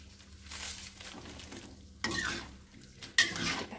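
Spatula stirring a tempeh, bitter melon and tomato stir-fry in a pan, soft scraping and sizzling with a few sharper scrapes, close and fairly quiet, no talking.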